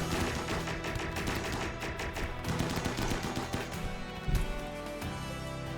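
Dense, continuous gunfire crackles through a combat scene in the video game RimWorld, volleys overlapping and shots rattling in quick bursts with no talking.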